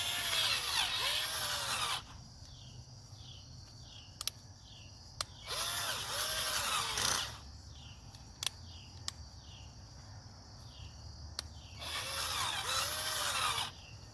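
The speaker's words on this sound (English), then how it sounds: "So, something's going on with my auger." A battery-powered garden auger with a weak, failing battery runs in three separate whining bursts of a few seconds each, separated by quieter gaps with faint insect chirping and a few sharp clicks.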